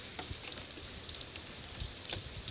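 A light rain shower falls outdoors, a soft steady patter of scattered drops with faint hiss, gentle and continuous with no voices.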